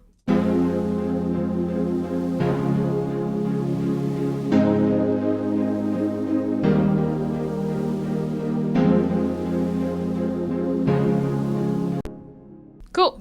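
A lo-fi remix of a song plays chords, pads and synths together in a warm, steady layered sound. The chords change every couple of seconds and the sound fades briefly at the end.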